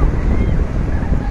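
Sea waves wash steadily onto Itamaracá beach in Pernambuco, a continuous close roar of surf mixed with heavy wind buffeting the microphone, with no pause across the short stretch.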